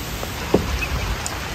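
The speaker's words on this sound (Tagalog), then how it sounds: "Ito po tayo kasi umuulan na." Steady rain falls outdoors, a dense, even hiss with a few louder drops landing on a nearby surface, and no voices.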